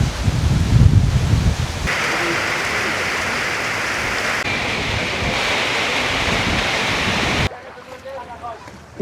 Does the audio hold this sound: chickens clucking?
no